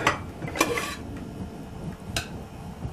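Cooked semolina is scraped from a pot into a dish, with a few sharp metallic clinks and knocks of a utensil against cookware between softer scraping sounds, and no talk.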